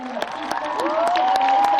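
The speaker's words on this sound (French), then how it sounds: "S'il vous plaît, je vais vous demander d'applaudir très fort toute l'équipe du film" An audience at a French film premiere applauds the film team, a dense, sustained wash of clapping with a few whoops and voices mixed in.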